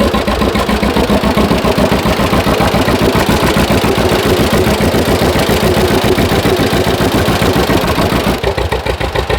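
A tractor engine idles loud and close with a fast, even chugging rhythm while driving a 1920s John Deere Dain hay press through a belt.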